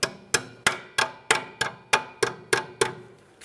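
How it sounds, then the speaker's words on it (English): A brake hose mounting clip on a 2007-2013 Acura MDX rear outer brake hose is tapped into place: about ten sharp metallic taps in an even rhythm, roughly three per second, close and distinct. "slide it right down into the groove that's on the flex hose. Tap it into place."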